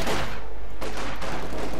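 Dense infantry rifle and machine gun fire in a World War II real-time strategy battle, loud and continuous with a couple of sharp bursts standing out.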